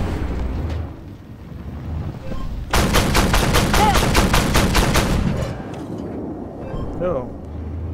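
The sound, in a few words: tank gunfire in the video game Armored Warfare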